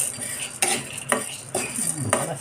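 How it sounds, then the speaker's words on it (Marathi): A spoon scrapes and stirs dry chana dal (split chickpeas) roasting in a pan, giving soft rhythmic rasping strokes about every half second with a light rattle, close and quiet, with no talking. "हरभऱ्याची डाळ आता भाजायला टाकली आहे"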